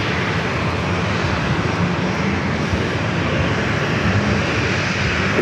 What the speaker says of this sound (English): Japan Airlines Flight 66 coming in from Tokyo Narita to 787-9 Dreamliner